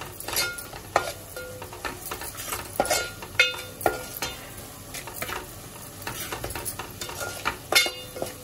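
Spices frying in oil for a tangy prawn gravy, with repeated quick scrapes and stirs of a spoon against the pan over a continuous low sizzle, close and moderately loud.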